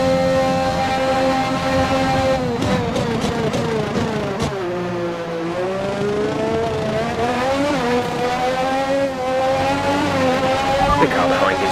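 Formula 1 race cars in an Xbox Series X|S racing game, high-pitched engines screaming loud and steady with rising and falling gear changes, a brief tire squeal near the end.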